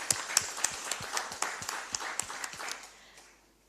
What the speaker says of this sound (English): Please, let's give them a big round of applause.